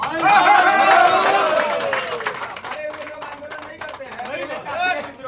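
A crowd at a rural political rally about electricity supply claps in a loose, uneven patter, with a loud voice shouting over it at first and crowd chatter underneath.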